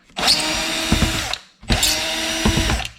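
A power tool whirs in two bursts of about a second and a quarter each, separated by a short pause, while driving out screws from an extruded aluminum AC/DC power converter housing, the motor's whine close and clear.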